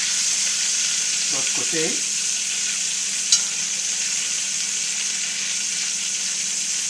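Rabbit pieces browning in a pan, a steady close sizzle throughout with a short spoken phrase early on and a single sharp click from the pan partway through.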